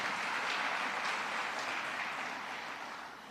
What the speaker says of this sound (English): give your children, our learners, a round of applause